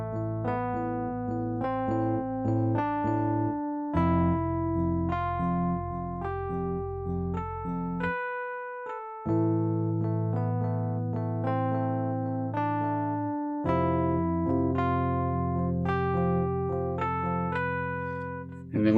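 A keyboard piano plays a song's bass line with the left hand counting upward beneath sustained chords, moving through clear successive notes in a continuous passage of about nineteen seconds, alone and with no talking.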